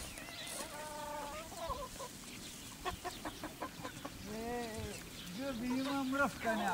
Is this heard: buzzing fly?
no